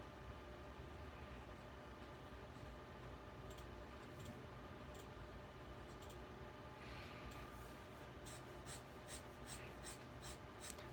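Platinum 3776 Century fountain pen nib writing quickly on paper, a faint, continuous soft scratching with a few brief ticking strokes near the end, quiet and close.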